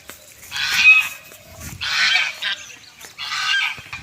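Three loud honking calls from geese nearby, spaced about a second apart with quiet gaps between them.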